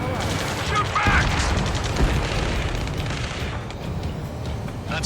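Gunfire and explosions in the video game Ace Combat 7 form a dense, loud barrage of rumbling booms and crackling shots, with voices shouting over the din.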